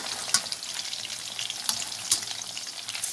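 Chicken drumsticks fry in oil in a pan on a gas stove, a close, steady crackling sizzle with scattered louder pops and spatters throughout, no voices.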